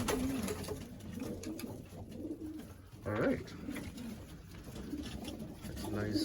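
Racing pigeons in a loft coo repeatedly with soft, low, rolling calls close by, while someone talks briefly over them.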